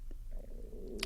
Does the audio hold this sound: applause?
no